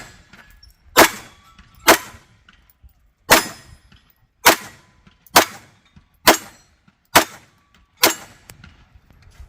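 A Canik Rival S pistol fires steel-cased ammunition at steel gongs: eight sharp, loud shots spaced about a second apart, each ending in a bright metallic clang that rings briefly before the next, with no talking.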